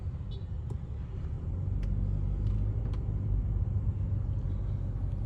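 A Mercedes E200d AMG diesel engine in the facelifted W213 body rumbles low and steady close by, swelling slightly louder after the first second as it revs, with no talk.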